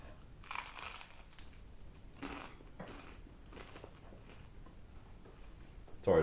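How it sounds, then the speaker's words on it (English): Several people munch a crunchy peanut butter snack close to a microphone, with bursts of crisp crunching and crinkling spread across a quiet room and faint voices in between. "Sorry, we're crunching really loud."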